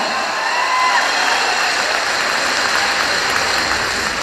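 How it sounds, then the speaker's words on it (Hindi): An audience at a motivational speaking event applauds, producing a dense, steady wash of clapping that holds at an even level throughout, with no voices heard over it. "तालियां ऐसे नहीं, हाथ उठा के बजाओ, जानदार तालियां"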